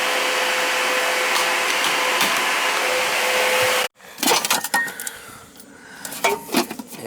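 A vacuum cleaner runs steadily and loudly while cleaning the filter of a Carrier AC unit, then cuts off abruptly, leaving scattered clatter and handling knocks.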